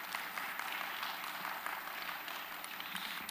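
A church congregation applauds to welcome a visiting pastor. The clapping is a faint, steady, even patter from a distance that stays level throughout, with no clear voices.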